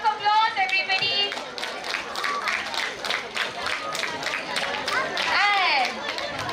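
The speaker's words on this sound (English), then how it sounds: "A huge round of applause," An audience at a school robotics awards ceremony claps in a dense, continuous burst of applause, with voices chattering and calling out over it, close and lively throughout.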